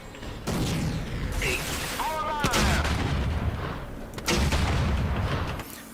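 Booming blasts from a shotgun converted into a grenade launcher in the shooter Rage go off in a few heavy, close explosions, each followed by a rumbling decay amid other game sounds.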